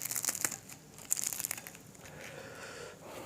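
Crisp Jaffna-style sugar dosai snapped apart by hand, a close run of dry crackles and crunches with two louder bursts early on, then fading into softer rustling.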